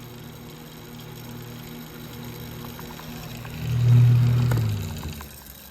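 A Holmes HAWF 2020N electric fan runs during an airflow test, giving a steady low motor hum and whoosh that swells louder for a moment near the end before easing back, with no voices.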